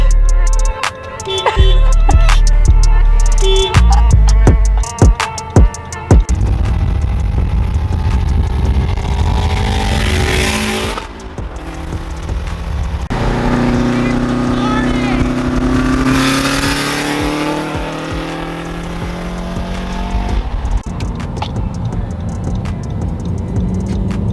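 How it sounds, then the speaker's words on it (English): A 2005 Subaru Legacy GT engine revs hard and accelerates, its pitch climbing and falling through gear changes, loud and close, with voices talking at the start. "You gotta go fast. We're street racing."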